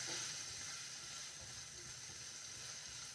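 Potato slices fry together with red amaranthus stems in a pan, giving a faint, steady sizzle that hisses on evenly, with no voices.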